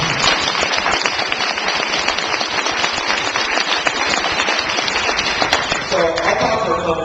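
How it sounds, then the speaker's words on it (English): Audience applauding in a room at a talk on the arts, dense steady clapping throughout, ending with a voice speaking as it fades. "Let's give Brad a round of applause."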